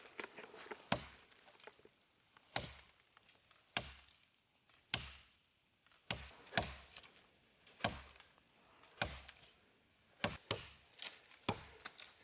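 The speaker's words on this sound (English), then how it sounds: "This tree is going to come handy with the shelter, so I need to take it down with the Zippo." A Zippo hatchet chops into a standing tree outdoors, about a dozen sharp woody thwacks landing at an uneven pace, loud and close, with quiet pauses between the strikes.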